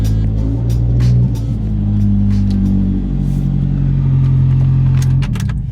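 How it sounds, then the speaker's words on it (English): A Mitsubishi Evo drives along with a loud, steady low engine drone that rises and falls as it accelerates and shifts, heard from inside the car with some faint clicks and rattles. "Let's go for a drive."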